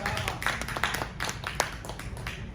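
A church congregation applauds together, a dense run of rhythmic, close hand claps with voices mixed in.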